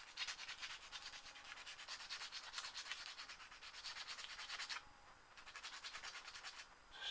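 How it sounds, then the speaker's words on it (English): Sandpaper rasps back and forth against a surface in quick, even strokes, pausing briefly before resuming; close and dry, with no talking. "a bit of my old well-used sanding paper that's"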